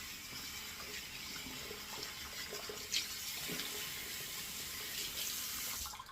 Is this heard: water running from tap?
yes